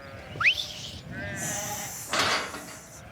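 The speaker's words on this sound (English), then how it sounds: "herd the lambs into their new pasture" Lambs bleat in short, clear calls nearby as they are herded into a new pasture outdoors, with faint rustling and movement around them.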